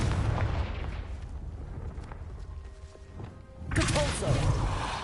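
A Confringo fire-blast spell bursts in Hogwarts Legacy, a booming game explosion that swells loud near the end over a rumbling, busy game soundscape, with a voice speaking.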